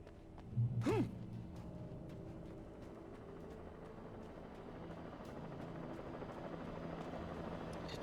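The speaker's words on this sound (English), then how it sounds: "The chopper is still here." A helicopter hovers in Alan Wake Remastered, its steady low rotor thrum and engine drone filling the scene at moderate distance, with a brief louder swell near the start and otherwise constant throughout.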